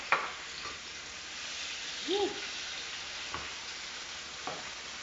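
Tomatoes and scotch bonnet sizzle softly in a pot on the stove, with a faint steady hiss, a few sharp utensil clicks and one brief squeaky sound midway.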